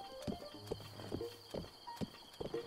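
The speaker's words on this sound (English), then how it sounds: "Come on, horsey." Horse hooves in The Legend of Zelda: Breath of the Wild clip-clop in a steady trotting rhythm, crisp and close, over soft sustained game music with no talking.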